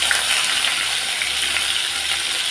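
Cauliflower fries in hot mustard oil, giving a loud, close, steady crackling sizzle that fills the whole stretch without pause.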